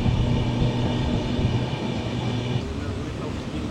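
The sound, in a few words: Darjeeling Mail train rattling, heard through open window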